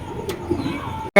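Pigeons coo softly and continuously at close range, a low murmuring ending in a brief gap and a sudden louder burst.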